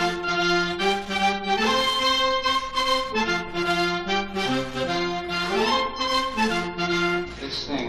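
Several reed instruments play together in a heavy, strained, buzzy tone, moving through a slow melodic line without pause.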